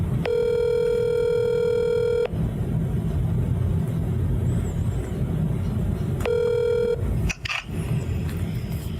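Two bursts of a steady electronic ringing tone on a phone line, the first long and the second short, over a constant low engine rumble.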